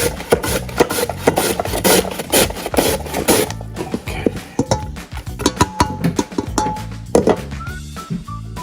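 Repeated rasping strokes of ingredients being grated for homemade kimchi, a steady rhythmic scraping that runs close and loud, then breaks into scattered thuds and clinks of kitchen work.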